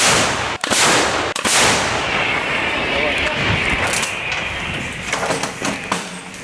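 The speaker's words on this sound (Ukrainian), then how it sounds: "Постріл!" Two heavy, sharp blasts of M777 howitzer artillery fire come in quick succession. A long rumbling roar follows, with people's voices in the background.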